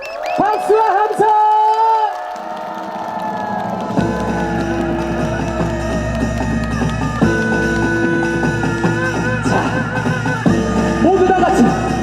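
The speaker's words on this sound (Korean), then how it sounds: "박수와 함성!" A concert crowd at an outdoor city fireworks festival concert in Ulsan cheers and whoops over amplified music, a broad continuous roar with shouts rising above it, loud and close.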